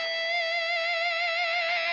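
Distorted electric guitar sounding one clean pinch harmonic, the pick and side of the thumb bringing out a high, steady singing overtone with slight vibrato, sustained alone for about two seconds.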